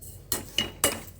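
A spoon stirs semolina in a pan while making ravva laddu, giving four sharp metallic clinks at an uneven pace against quiet background hiss.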